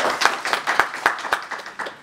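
Audience applause at a Cornell event on a working waterfront, a short burst of sharp, closely spaced hand claps from a modest group, nearby and clear.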